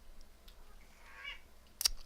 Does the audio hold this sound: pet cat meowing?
yes